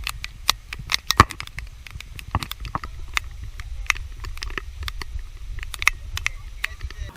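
Heavy rain shower over a bay, with scattered sharp drops tapping and pattering at close range over a low rumbling background, irregular and steady throughout.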